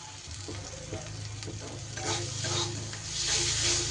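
Ground masala for a vegetarian cauliflower and paneer rasa, seasoned with salt and a little sugar, is stirred and fried in a pan. A steady close sizzle runs throughout, broken by scraping stirs and rising bursts of frying.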